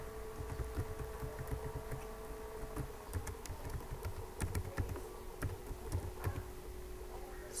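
Keys clatter in quick, uneven bursts as someone types login details into a computer keyboard, close and moderately quiet, with a faint steady hum underneath.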